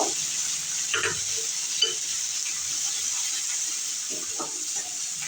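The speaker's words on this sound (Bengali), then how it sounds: "আদা রসুনের চপ করে রেখেছি এটাও গোল্ডেন করে ফ্রাই করব" Chopped ginger and garlic frying in mustard oil with cumin seeds, a steady soft sizzle throughout with occasional clinks of a spoon stirring the pan, no talking.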